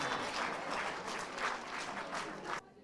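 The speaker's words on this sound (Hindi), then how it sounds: "भरपूर तालियों से इस्तकबाल कीजिए।" A mushaira poetry gathering's audience bursts into dense, sustained applause welcoming a poet, many hands clapping together loudly and evenly before it stops abruptly.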